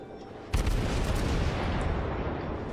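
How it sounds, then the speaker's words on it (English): In World of Warships, a ship's guns fire a sudden heavy boom at a Myogi, followed by a long rumbling roar that trails off slowly. "And then go back to shooting at the Myogi."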